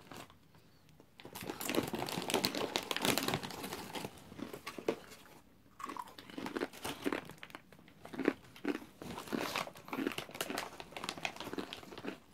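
Butter-flavored potato chips crunched and chewed close up, a steady run of crisp crackling bites with brief pauses, mixed with faint bag crinkling.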